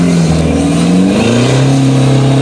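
A loud 4x4 engine labours steadily at low revs in first gear low range, its pitch dipping then holding as it strains up a mountain track near Omkoi, Chiang Mai, a continuous close-up drone with no talking.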